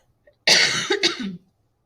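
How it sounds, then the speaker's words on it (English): A single person coughs once, a short harsh burst followed by a brief rasping tail, close and fairly loud against near silence, with no speech. "I'm so sorry for coughing"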